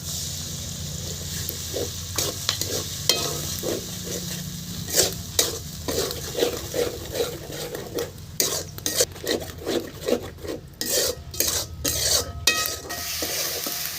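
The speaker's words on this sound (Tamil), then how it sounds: "இப்போ வந்து மசாலா நல்லா வதங்கிருச்சு" Ground masala paste for an Odisha-style fish curry fries in a pan, with steady sizzling under rapid, rhythmic scraping of a spoon as it is stirred, loud and close throughout.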